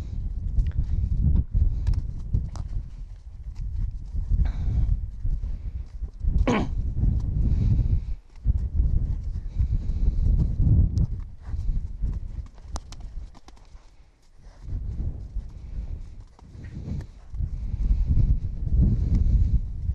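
An anxious horse walks, its hooves clip-clopping in a steady irregular rhythm, close by with wind buffeting the microphone and brief pauses between bursts of steps.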